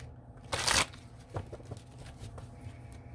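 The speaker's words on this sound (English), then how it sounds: "Let's first pull some oracle cards for the feminine." A deck of oracle cards is shuffled by hand: one sharp riffling burst followed by softer, scattered card taps and slides, close and quiet with no talking.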